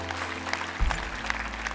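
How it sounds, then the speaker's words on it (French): Congregation applause at a Hillsong church service in Lyon, celebrating the campus's tenth anniversary: steady clapping from a crowd, moderately loud and continuous, with a low hum underneath and no talk over it. "On peut applaudir."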